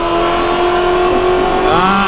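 A Ford Mustang GT350 at full throttle on the Circuit of the Americas race track, its engine holding a loud, sustained drone that climbs in pitch near the end.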